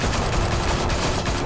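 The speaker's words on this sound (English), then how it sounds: "Open fire!" Dense, continuous video game gunfire, a steady roar of shots packed together with no clear gaps, loud and close throughout, with no voices.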